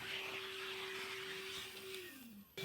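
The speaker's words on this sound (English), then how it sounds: "then you're gonna go ahead and vacuum it all up" A vacuum cleaner runs steadily and loudly inside a car interior, giving a constant whine with a shifting pitch near the end as the suction changes. The sound is close and continuous, with no talking.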